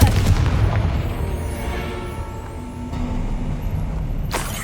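Confringo blasting spell going off in the video game Hogwarts Legacy: a loud explosive boom at the start, followed by a rumbling, crackling wash of debris and game ambience that stays dense throughout, with a sharp burst near the end.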